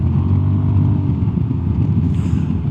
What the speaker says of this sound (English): The smoothness of the engine is very good. Exhaust sound is good.